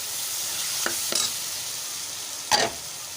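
Chopped eggplant pieces tipped into a hot pan give a couple of short sizzling, stirring bursts, with a louder crackle near the end and quiet gaps between.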